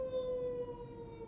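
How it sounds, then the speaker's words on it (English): A fire truck siren passes outside, a steady sustained wail running under the scene with a faint low rumble beneath, moderately loud throughout. "Forgive me for the fire truck, y'all can hear."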